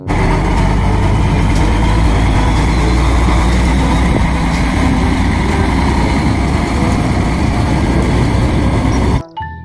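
Toy concrete mixer truck making a steady, loud engine-idle rumble close up, continuous for about nine seconds before stopping abruptly, with no talking over it.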